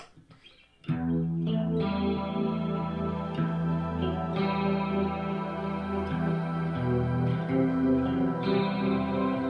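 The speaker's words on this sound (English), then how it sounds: "We need lots of reverb and chorus and stuff for this song" A sustained electric guitar chord rings out drenched in shimmering chorus and spacious reverb, swelling and ringing on without any voice.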